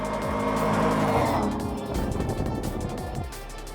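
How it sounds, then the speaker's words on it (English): An electric ATV quad and an 800cc gas quad accelerate side by side in a race, with engine and motor noise rising and sweeping past loudly, a roaring pass followed by a fading whine. "At the very start, we see that the electric quad is slightly faster, but nearer to the finish, the gas one overtakes his opponent."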